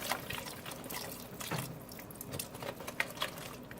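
Chicken broth pours into a soup pot for loaded cauliflower soup, a soft continuous splashing and trickling with scattered drips, fairly quiet and close, with no talking.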